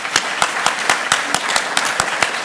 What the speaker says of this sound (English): Let's give all of our panelists another round of applause.